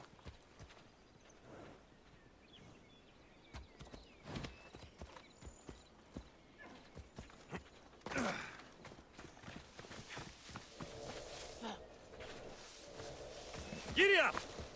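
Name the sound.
horse riding in video game Assassin's Creed Odyssey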